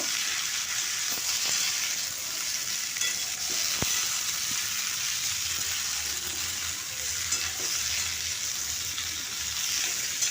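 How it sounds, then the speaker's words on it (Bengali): Beans and potatoes fry in a pan with onion, garlic and chopped tomato, a steady close sizzle with soft scraping from stirring and an occasional sharp clink, continuous and without voices. "এরপর সিম আর আলুটা দিয়ে দিলাম দিয়ে আবার একটু ভালো করে মিশিয়ে নেব"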